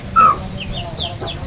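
A chicken gives one loud, close cluck, then several quieter clucking calls follow in the background.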